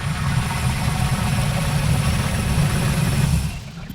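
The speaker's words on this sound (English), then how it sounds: "Captions, engine suction." A steady low engine drone with broad rumbling noise, like a heavy engine running, holds loud and continuous, then fades slightly near the end.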